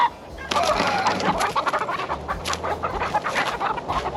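About ten chickens in a cage cluck and squawk close by in a restless, continuous chorus, with occasional louder bursts.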